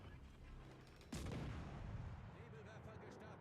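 Warship guns fire in a naval battle game, a single heavy boom that rolls into a rumbling tail, fairly faint and distant under a steady background hum.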